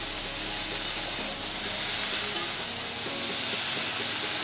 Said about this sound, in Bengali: একসাথে একটু নেড়ে ছেড়ে নেব।